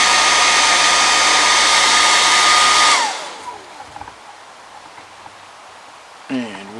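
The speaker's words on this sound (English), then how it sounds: "So I've got my portable air unit here, air dryer." A portable air dryer blows onto cement spread on puppet foam, giving a loud, steady roar for about three seconds before cutting out abruptly, leaving a quiet room with faint stray noises.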